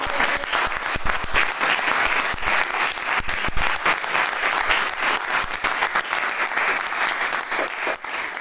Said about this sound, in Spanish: Yo les pido que les demos un aplauso.